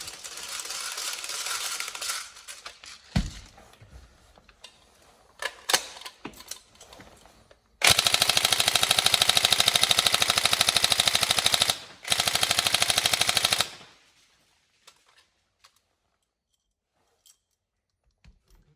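Tokyo Marui 416D NGRS airsoft electric gun, upgraded, test firing: a few scattered single clacks, then two sustained full-auto bursts of rapid mechanical rattling, loud and close, followed by near silence.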